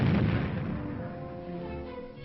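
Gunfire on an army firing range, heard as a loud burst of dense, rumbling reports that fades into a continuous echoing roar over about two seconds, with no voices.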